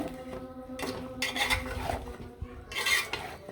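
A utensil stirs spiced meat in a metal pot, giving quiet scraping clinks in a few irregular bursts.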